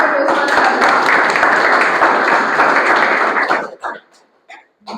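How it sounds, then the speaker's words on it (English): Audience applause at a Toastmasters club meeting, a dense sustained round of clapping from a roomful of people that holds steady, then breaks into a few scattered final claps near the end. "Huge round of applause for Toastmaster."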